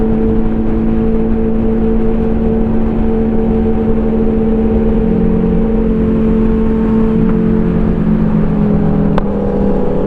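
A Suzuki GSX-R 1000 track motorcycle engine drones loud and steady, holding a sustained rev with a constant hum throughout and no voices present.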